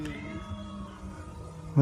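A cat yowls outdoors in the woods, a wavering, drawn-out cry with rising and falling pitch lasting the whole moment, fairly close, ending with a louder bump.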